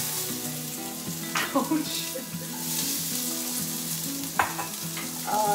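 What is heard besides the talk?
onion and celery frying in a pan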